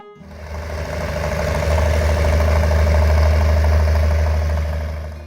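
An Allis-Chalmers D17 tractor engine runs at a steady, loud, low-pitched chug with a faint knocking rhythm, swelling in after a moment and holding evenly, with no voices over it.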